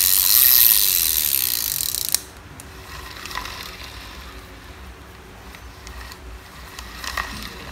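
A Japanese fishing reel with a milky-white body, wooden handle and four bearings spins with a light, fine ratcheting whir, loud for about two seconds, then fading to faint clicks and a soft mechanical hum.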